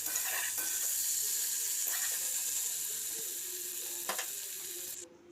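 Cabbage stir-fries in a pan over a medium gas flame, a loud continuous sizzle with occasional scraping stirs, fading out abruptly at the end; no voices.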